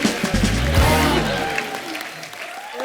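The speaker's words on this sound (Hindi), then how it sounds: "जोरदार तालियां" A studio audience at a comedy show claps in a loud burst that starts strong and tapers off over a few seconds, with some voice sounds early on.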